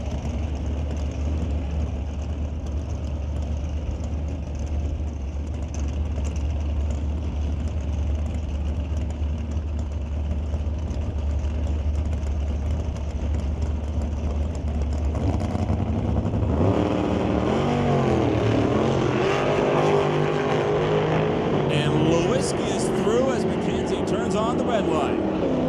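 Drag racing cars, among them a 1987 Chevy Cavalier with a 505 cubic inch big block, rumble and idle at the track under a steady announcer's voice. Deeper engine roar builds in the last ten seconds.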